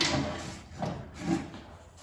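An antique wooden drawer slides open with a close, rubbing wooden scrape in a couple of drawn-out pulls.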